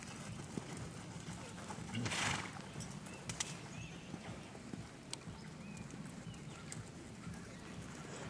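A mare's hoofbeats while moving sound as faint, rhythmic clip-clops against a steady background hiss, with a small bump partway through.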